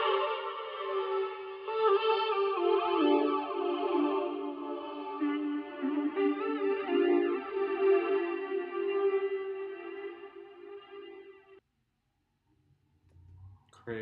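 A vocal sample built for a synth beat, processed with tremolo-like effects, rises and falls in pulsing, wavering tones with echoing, sweeping layers, then cuts out to near silence before a brief noise at the end.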